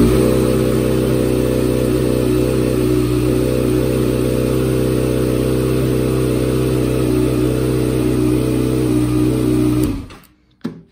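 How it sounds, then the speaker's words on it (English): A ZX6R motorcycle engine idles steadily with a loud, even rumble, then cuts off abruptly near the end, leaving near silence. "if I start the bike"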